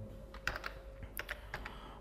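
Someone types on a computer keyboard, producing a few quick, close key clicks in short clusters over a steady low background hum.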